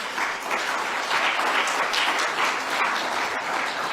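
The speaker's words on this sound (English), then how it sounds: "let's clap hands for everybody who's here" Steady, full applause from the audience at a football confederation presidential manifesto launch, loud and continuous with no speech over it.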